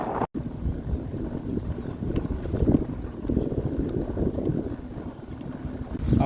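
Strong headwind buffets the microphone during an early-morning ride on a solar-powered e-bike during the Sun Trip 2024, heading for a ferry port. It makes a continuous low roaring rumble that swells and dips throughout, with no talking.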